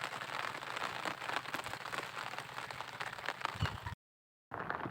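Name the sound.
heavy rain while fishing with nets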